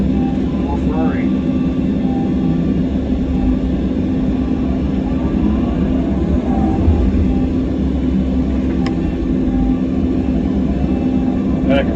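An excavator's engine runs loud and steady while digging a utility trench, a close, continuous low rumbling drone with faint higher whine and no clear breaks.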